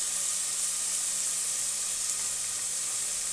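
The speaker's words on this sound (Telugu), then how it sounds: "వాటిని కూడా వేగించేసుకొని కాస్త ఫ్రై చేయనిద్దామండి." Chopped tomatoes frying in a pan for a chikkudukaya fry and curry, giving a steady, even sizzle and hiss with no pauses and no talking.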